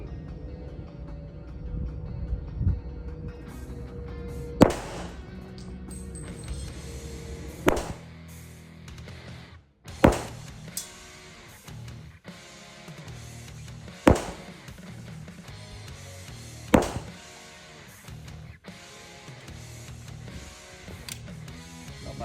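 Shots from a CK Arms .40 S&W competition pistol fired at a 10-metre target, about half a dozen sharp reports spaced a few seconds apart over mechanical background noise.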